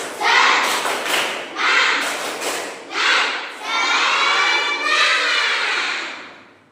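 A group performing the Indonesian 'tepuk semangat' cheer: several loud bursts of rhythmic clapping mixed with shouted voices, building into a longer sustained stretch of clapping and cheering before fading.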